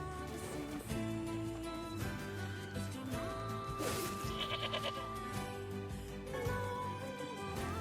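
Goats bleat repeatedly in the video game NieR Replicant, wavering calls rising over a steady game soundtrack, with several overlapping cries and no talk.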